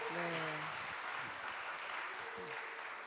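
Audience applause at a Korean church Q&A broadcast, a broad steady wash of clapping with a voice speaking briefly at the start and again near the end.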